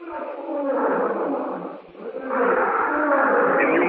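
A wild animal's roar in a jungle radio drama, a loud, sustained growling bellow that dips briefly near the middle and then swells again, heard alone without talk.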